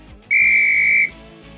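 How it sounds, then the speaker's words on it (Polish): A referee's whistle in beach volleyball gives one loud, clear blast lasting under a second, standing alone over faint background noise. "czekamy na gwizdek sędziego"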